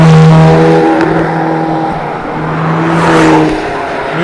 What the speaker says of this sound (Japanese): 今ですね、輪っかが5つついてるやつの車がたくさん通りましたね